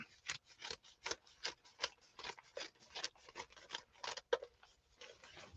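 Scissors snip through newspaper in a quick, irregular series of sharp crisp cuts, close and fairly quiet, with no voices.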